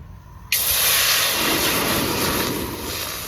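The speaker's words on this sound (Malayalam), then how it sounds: "വെള്ളം നല്ല വിട്ട് തിളച്ചിട്ടുണ്ട്." A loud, steady hiss of steam and rolling boil of water in a pot starts abruptly after a brief quiet moment, then continues evenly, close by, with no voices.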